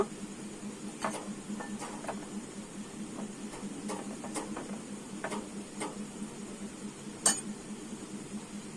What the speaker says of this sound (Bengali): এবারে আমি দুধটা, লবণ আর ময়দাটা ভালো করে মিশিয়ে নেব